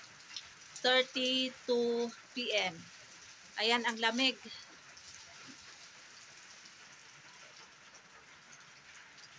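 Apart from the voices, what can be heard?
rain falling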